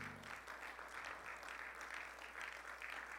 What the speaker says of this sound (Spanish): Puede darle una ofrenda de aplausos al Señor.